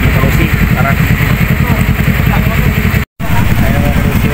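Several Rusi motorcycles, including a Rusi TC Macho125, idle and run together at a motorcycle blessing at Manaoag Church in Pangasinan, a steady close engine drone under a crowd of voices, with a brief dropout near the end.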